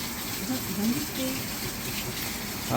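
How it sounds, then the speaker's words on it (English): A washing machine on a rinse cycle fills with gushing water, a steady close rush with faint mechanical tones, and someone talks over it. "Alright, we're running a rinse cycle"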